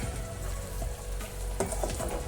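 Ginger garlic paste frying in hot oil for a prawn pickle, a steady close sizzle and crackle with a few soft stirring knocks, no voices.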